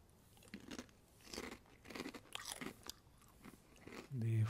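Spicy hot-sauce chips from a snack box crunch in a series of bites and chewing, fairly close and moderately quiet, ending with a louder thump of handling.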